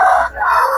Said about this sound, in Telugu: చూడండి పందిం కోళ్ళు అయితే రెడీ అవుతున్నాయి.